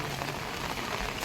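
Rain falls steadily in Haridwar during the monsoon month of Sawan, a dense, even hiss of drops pattering on surfaces, loud and continuous with no voices.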